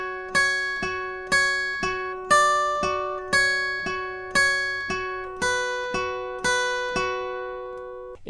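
Guitar picking a riff, a bright, evenly paced sequence of plucked notes with repeating picking patterns and clear attacks, played alone without talking.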